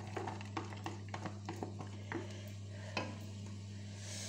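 Onion and garlic frying in oil in a pan for pork crépinettes, a soft low sizzle under faint clicks and scrapes of stirring, quiet and close.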